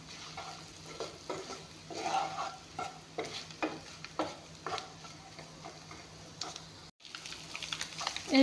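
Eggs frying in a pan with spices for ghugni: a quiet sizzle broken by frequent spatula scrapes and taps against the pan, irregular and close, with a brief gap near the end.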